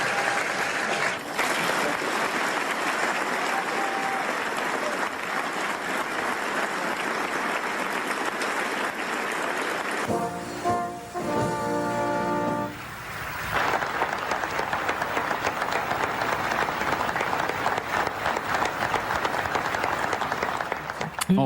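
An audience at the correspondents' dinner applauds American presidents with loud, sustained clapping that runs almost throughout. A short lull in the middle carries a few voices, and then the clapping swells again.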